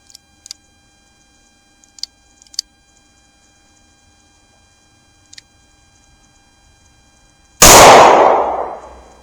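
A .38 Special round of Hornady Critical Defense 110 grain FTX ammunition fires from a Smith & Wesson Airweight revolver in a single loud, sharp report near the end, decaying over a second after a few faint ticks and clicks.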